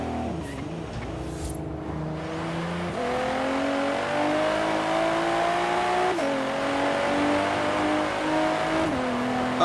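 A Porsche Macan SUV in the racing game Forza Horizon 3 drives on a highway, its engine droning steadily and loudly, with rising revs broken by gear shifts near three and six seconds, no voices.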